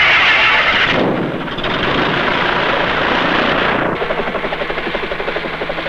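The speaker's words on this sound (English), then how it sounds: "Helicopters serve the community airport too." A helicopter flying at a community airport in a 1970 film, a loud steady rotor roar with a rhythmic blade chop that grows more pronounced toward the end, with no speech.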